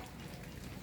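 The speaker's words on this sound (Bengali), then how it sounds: "হঠাৎ আল্লাহর দয়ায় আমরা বৃষ্টির দেখা পেয়েছি" Light rain falling over a neighbourhood in Cox's Bazar, a steady soft patter that holds at an even, fairly quiet level throughout with no voices.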